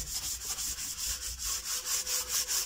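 Scotch-Brite pad scrubbed by hand over the rear subframe of a 1993 Toyota MR2 SW20: quiet, regular back-and-forth rubbing strokes, roughly four per second, close and steady with no voices.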